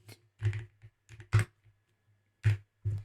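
A few separate bursts of computer keyboard typing while code is entered, short clusters of key presses with gaps between, close and clear with no talk.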